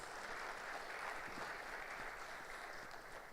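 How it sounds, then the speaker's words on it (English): Sustained applause from an audience at a church bishops' assembly session, a steady dense wash of clapping hands that carries evenly from start to finish without a break. "Please, can we give him again another round of applause?"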